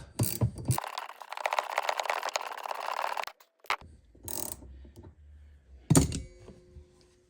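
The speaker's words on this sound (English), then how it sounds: "So we'll just spin this nut off." A nylock nut is spun off a Hyundai i10 rear shock absorber with mole grips: a few close metallic clanks, a sustained grinding scrape, then scattered rattles and knocks with quiet gaps between.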